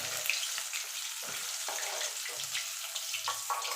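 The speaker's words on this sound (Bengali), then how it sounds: "এই আমি লাল লাল করে ভেজে নেবো দেখুন বন্ধু মাছগুলো ভাজা হয়ে গেছে" Tilapia fish frying in hot oil with a steady crackling sizzle, fairly quiet and close, with a few soft clinks of utensils.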